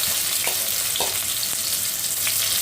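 Thinly sliced onions frying in hot tempered oil, a loud continuous sizzle with a few sharp spatula clinks and stirring scrapes up close.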